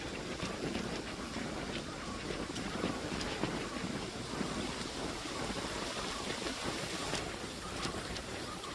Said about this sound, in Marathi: काय वारा सुटला, जबरदस्त वारा सुटला.